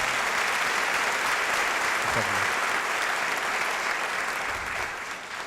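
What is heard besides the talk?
audience applause in church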